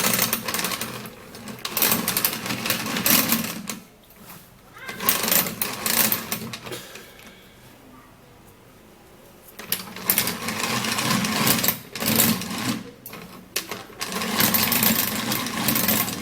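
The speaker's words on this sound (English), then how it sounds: "Now to make sure that the Colgate mixes very well with the banana, I'll have to be using my manual mixer." A hand-cranked manual mixer whirs and clatters in loud bursts as it blends banana with Colgate toothpaste, stopping a couple of times in between.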